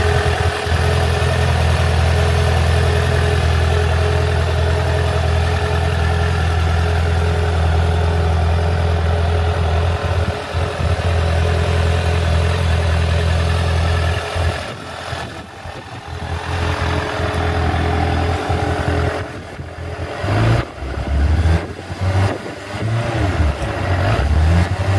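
A Suzuki Inazuma 400 motorcycle engine idles steadily up close, then the throttle is blipped in short uneven revs during the second half, with no voices.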